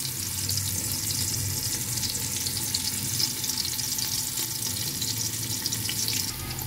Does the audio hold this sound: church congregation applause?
no